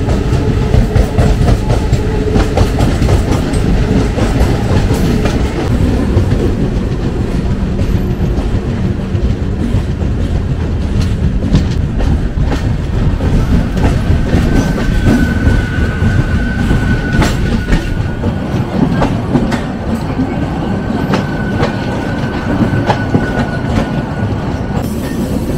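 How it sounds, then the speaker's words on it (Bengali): A local train bound for Chennai Beach rumbles loudly and continuously along the rails, with a rhythmic clickety-clack and a thin wheel squeal in the middle stretch. "লোকাল ট্রেনটা চেন্নাই বিচ লেখা, মানে বিচে যাবে।"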